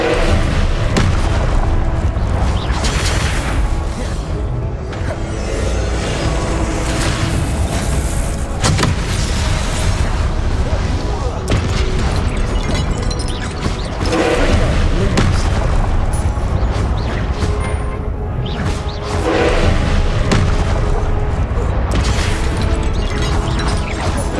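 Confringo spell blasts in Hogwarts Legacy, repeated booming explosions and mechanical whooshes layered with game effects, loud and dense throughout with brief dips between bursts.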